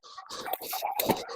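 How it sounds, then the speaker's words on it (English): Dogs making rough, squealing whimpers and yelps in a short burst at close range, with some scuffling or digging texture outdoors and no talk over it. "Not sure what's going on with the dogs."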